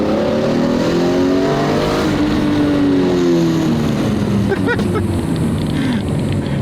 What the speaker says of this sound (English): So this is the S54 engine.